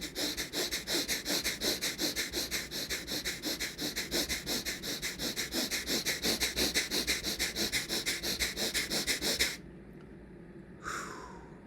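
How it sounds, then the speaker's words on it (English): Rapid, rhythmic sniffing breaths in a hyperventilation breathwork exercise, a fast even series of sharp nasal inhales and exhales close up for most of the stretch, then stopping abruptly into near quiet with one faint breath near the end. "basically it's going to consist of small little bit of hyperventilation, but in a very specific way"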